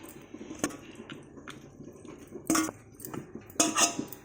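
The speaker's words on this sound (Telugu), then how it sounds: "నేను ఈ బాక్స్లో వేసుకుంటున్నాను." Mango pickle spooned into a storage box, with scattered clinks and scrapes of a spoon against the container and a few louder knocks near the end, close by.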